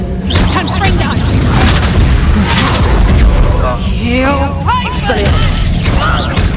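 Confringo fire spell explosions during Hogwarts Legacy combat: loud, dense booms and crashing blasts rolling one after another, with voices and spell effects layered throughout.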